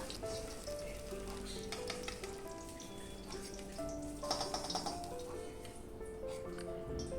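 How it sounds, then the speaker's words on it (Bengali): Cabbage rolls tied with string fry in hot oil in a kadai, a steady wet sizzle with small pops and crackles running throughout, with no other sounds over it. "এবার বাকি দুটোকেও তেলে দিয়ে দিলাম ওই একইভাবে লালচে করে দু পিট ভেজে উঠিয়ে রাখবো"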